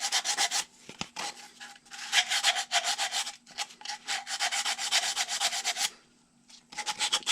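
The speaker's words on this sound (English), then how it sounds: "I'm going to take another piece of sandpaper, a smaller piece, and kind of go around the inside edge a little bit." Short, rhythmic strokes of a small piece of sandpaper rubbing around the inside edge of a carved powder horn, close and fairly loud, in bursts with a brief pause near the end; no talking.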